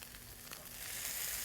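Beer poured into a pan of sauerkraut and apples sets off a steady, close sizzle that builds and grows louder and brighter toward the end, with no voices.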